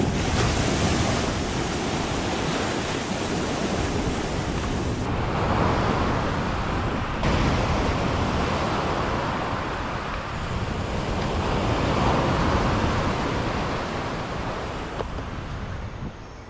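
Ocean waves wash steadily onto a tropical desert island shore, a continuous loud roar of surf with rising and falling swells and some wind buffeting the microphone, no voices.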